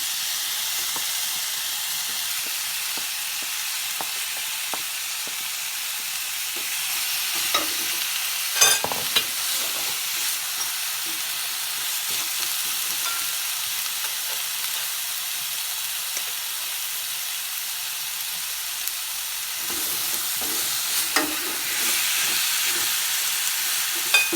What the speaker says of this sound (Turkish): Və əvvəlcədən bastırma elədiyim toyuq ətlərini əlavə edirəm.